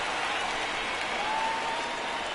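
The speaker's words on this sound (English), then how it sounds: "And Ken Griffey comes on deck, and that's why you hear the large cheer." Steady broad crowd roar and applause from a baseball stadium in MLB The Show 19, White Sox versus Yankees, as Ken Griffey steps on deck; an even, continuous cheer fills the whole stretch with no talk.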